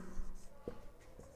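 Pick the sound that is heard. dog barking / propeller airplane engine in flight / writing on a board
writing on a board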